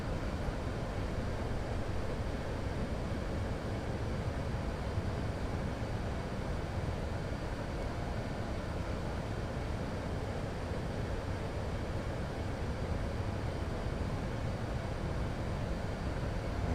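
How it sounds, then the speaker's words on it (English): The Rolls-Royce Trent engines of an Asiana Airbus A380 drone in a flight simulator game. The roar is steady, broad and unbroken, with no voices over it. "These are the Trent engines."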